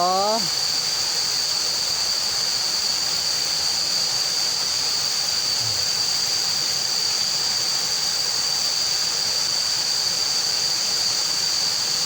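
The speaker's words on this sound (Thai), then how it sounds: "สงสัยมาดูน้ำตก" A forest waterfall roars steadily and loudly as an unbroken wash of rushing water, with a brief rising tone right at the start.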